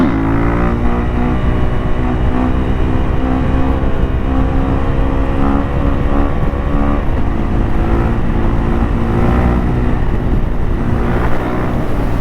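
A motorcycle engine revs hard and steadily through a wheelie, a loud, close, continuous drone whose pitch rises and falls slightly without letting up.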